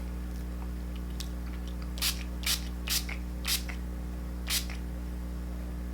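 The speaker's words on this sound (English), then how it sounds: "I give it about 3 to 4 sprays." A pump spray bottle releases facial toner mist in five short, bright hissing bursts spaced about half a second apart, close by, over a steady low hum, with no talk.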